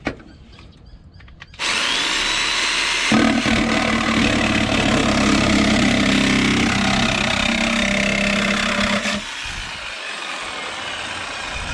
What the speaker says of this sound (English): I'm gonna cut this piece out right here to get clearance.